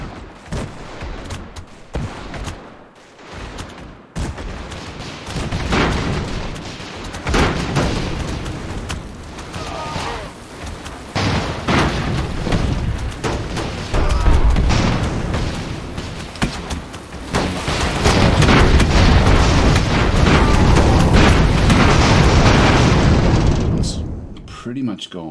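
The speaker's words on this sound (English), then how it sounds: "It's just the cannons we're going to have to sort of just watch out for, I think." Cannon fire and explosions in the airship battle game Airships: Conquer the Skies, a sustained barrage of booms and crackling blasts that grows denser and louder toward the end, with a voice talking over parts of it.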